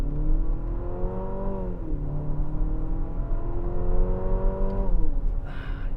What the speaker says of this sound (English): Yeah, it does kind of like to rev, but not the V6.